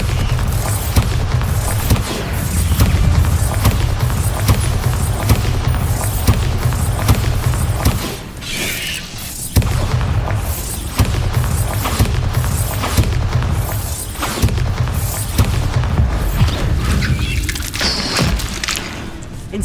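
Repeated Bombarda blasting-spell explosions in Hogwarts Legacy, a steady barrage of loud, close booms with brief gaps near the middle, rumbling and cracking almost continuously throughout.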